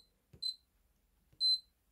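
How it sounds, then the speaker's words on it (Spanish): A Bernina B535 sewing machine sounds two short, clear electronic beeps about a second apart while its beep volume is being set. Between them the room is nearly silent and no one speaks. "Esto es el volumen de los pitidos, de cuando la puntada está mal o cualquier cosa o el cambio."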